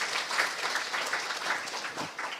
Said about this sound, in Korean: 모두 함께 박수 한번 칠까요?